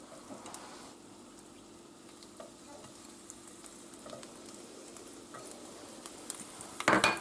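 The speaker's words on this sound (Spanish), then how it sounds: "Y lo dejamos que se fría un poquito." Garlic cloves frying in hot olive oil, a soft, steady crackle and patter of sizzling with scattered small pops and a louder burst of scraping at the very end.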